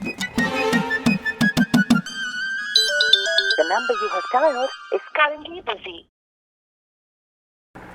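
A phone's electronic ringtone melody plays loudly for a few seconds, then a voice briefly speaks before the sound cuts to silence.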